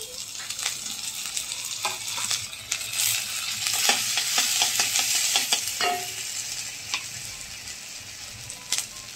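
Dried red chillies, whole cumin and ginger paste fry in hot oil over a raised gas flame, giving a loud, continuous crackling sizzle with scattered pops and stirring scrapes, close up and without speech.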